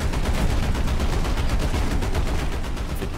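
Rapid, sustained gunfire from a tank in the War Thunder combat game: a dense, loud stream of repeated shots rolling steadily through the whole stretch with no talk over it.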